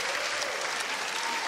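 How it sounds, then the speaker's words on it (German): A television studio audience claps loudly and continuously for a Schlager singer, a dense wash of applause throughout. "Das ist dein Applaus, meine Damen und Herren,"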